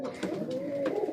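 Pigeons in a home loft give a steady, continuous cooing murmur that sits close and fairly loud over a dense background hum.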